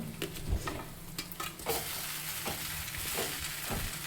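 Vermicelli (semiya) is stirred gently in a hot pan for semiya pulao, making soft repeated scrapes and clinks over a low, quiet sizzle with no voices.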